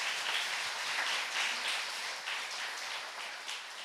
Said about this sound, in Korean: 우리 그동안 수고했다고 박수 한번 쳐주시기 바랍니다